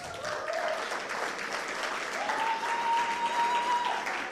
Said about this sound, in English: A round of applause for Felix.